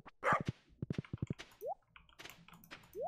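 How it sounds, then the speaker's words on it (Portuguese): A pet dog in the farming game Stardew Valley gives a quick run of short, soft yips and barks, followed by bright rising chirp tones, all faint and close with no talking. "Eu vou fazer carinho no meu cachorro."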